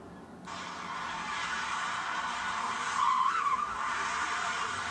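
A Knight Rider car chase plays through a small phone speaker, tinny and steady, with engine roar and tire squeal rising briefly near the end.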